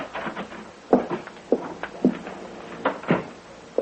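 A door opening in a radio drama sound effect: a series of close wooden knocks, clicks and creaks spaced irregularly over a few seconds, with no voices.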